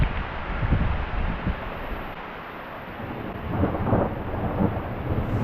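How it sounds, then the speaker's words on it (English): A thunderstorm over a carp fishing spot: steady heavy rain and gusting wind with low rumbles of thunder swelling and fading, loud and close, with no voices. "what a storm"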